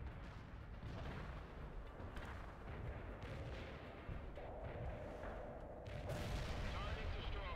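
Artillery fire in the World in Conflict video game sounds as a run of muffled booms and rumbling blasts over continuous battle noise, fairly faint and distant, with radio-style voices talking over it.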